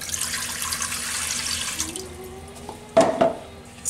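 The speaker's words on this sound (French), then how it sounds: "on va commencer par mettre 400 ml d'eau" Water pouring steadily into a Cookeo electric pressure cooker, about 400 ml, a continuous splashing stream that stops after two seconds, followed by a couple of soft clunks nearby.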